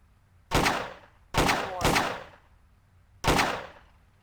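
Four loud, sharp gunshots in the video game Trespasser, fired at a chair, each a sudden blast with a long ringing decay; the second and third come close together and the last follows after a pause.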